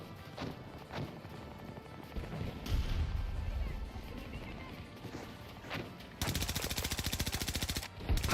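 Automatic gunfire in the Battlefield 2042 video game, with scattered shots and impacts early on, then a loud, rapid sustained burst in the final seconds.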